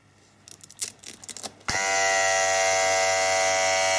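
An electric vacuum pump for a DIY EV brake booster kicks on after some clicking and handling, then holds a loud, steady whine and buzz with a strong tonal hum.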